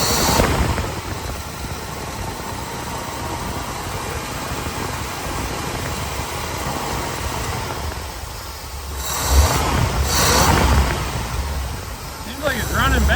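A 1956 Buick Century with a fuel leak is started and settles into a steady, loud engine idle, with a couple of louder surges and people talking over the running motor.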